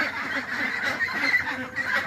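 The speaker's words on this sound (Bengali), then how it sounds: "ফ্রান্সের বিখ্যাত প্রকৃতিগতের যে হাঁসগুলো এই হাঁসগুলো আপনারা দেখছেন" Pekin ducks honking and quacking nearby on a farm of about 850 birds, a continuous, overlapping chorus, fairly loud, with farm ambience underneath.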